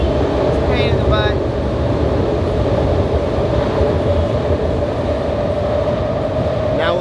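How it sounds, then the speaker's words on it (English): A train rumbles steadily past on a street in Kensington, a loud continuous low roar with faint metallic squeals, filling the whole stretch without pause. "let me wait for the train"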